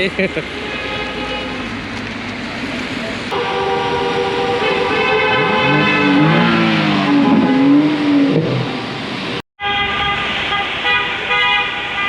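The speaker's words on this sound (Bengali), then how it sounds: "গাড়ি বের করে সবাই হর্ন বাজাতে শুরু করে দিয়েছে" Car horns toot repeatedly and overlap in a loud street celebration after a Swiss football win, long sustained blasts layered with traffic noise and excited voices, briefly cutting out before resuming.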